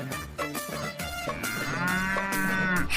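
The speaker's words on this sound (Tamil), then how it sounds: "அங்க பாரு மாடு வந்து" Cattle lowing in a long, drawn-out moo that swells over the second half, loud and close, with a busy backdrop of other sounds and no talk.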